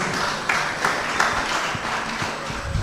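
Applause from an audience at a discussion on culture, arts and media in pan-African unity, a steady dense patter of clapping with a few louder bursts, moderately distant and continuous.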